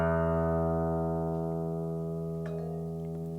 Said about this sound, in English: The tuner tells us, hold there, you're in tune, and plays a little sound